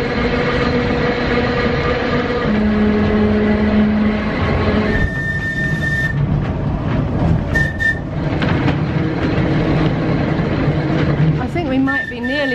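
An old tram rattles along rails between Douglas and Laxey on the Isle of Man, with a steady rumbling clatter, windows banging, brief whistle-like tones and a squeal near the end, and people talking over the noise.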